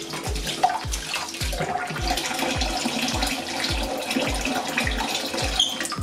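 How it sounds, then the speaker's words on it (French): Cold water runs steadily from a kitchen tap over drained cooked quinoa in a strainer, a constant close splashing rush with faint rhythmic thumps beneath it. "une fois notre quinoa égouttée, on va la rincer à l'eau froide"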